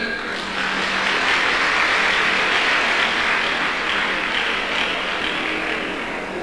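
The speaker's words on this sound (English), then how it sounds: "Clap for yourself." Convocation audience applauding in a lecture hall, a dense, steady wash of many hands clapping that swells after a brief start and holds loud and continuous to the end.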